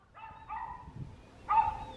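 A dog gives a few short, tonal barks and whimpering yips at close range, a pair of quick calls followed by a louder one near the end, with no talking over them.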